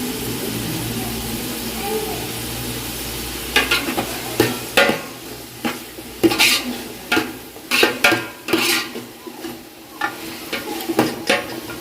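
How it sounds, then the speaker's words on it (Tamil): Onions and tomatoes sauté in a pan in a home kitchen in Jaffna: a low steady hiss, then from a few seconds in a run of sharp, repeated spatula scrapes and stirring clatters, close and fairly loud. "வெங்காயமும் தக்காளி நல்லா வதங்கிட்டு"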